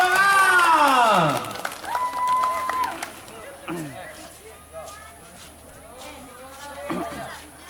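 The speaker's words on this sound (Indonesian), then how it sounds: "Tepuk tangan." A crowd at a school volleyball final applauds players as they are introduced, a brief burst of clapping and cheers under a loud announcer's voice, with whistling tones and chatter around it.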